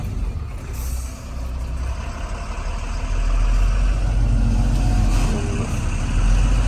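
A fully loaded truck climbing a hill in low gear, its engine a steady deep drone that grows heavier and louder partway through, with a brief hiss near the start.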